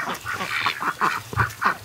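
A duck near a small patch of water in the bush gives a quick series of close, harsh quacks, about half a dozen calls in under two seconds.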